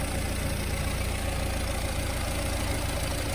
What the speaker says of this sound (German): und jetzt Motor läuft